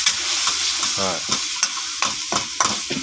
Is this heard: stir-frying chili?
yes